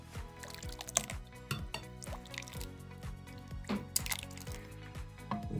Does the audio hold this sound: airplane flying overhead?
no